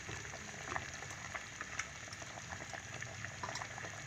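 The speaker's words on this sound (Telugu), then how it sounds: "చూసారు కదా పులుసు అంత మరిగిపోతుంది" A pot of fish curry made with pandumeena fish simmers on the stove with a soft continuous bubbling and faint popping, quiet and close, with no talking over it.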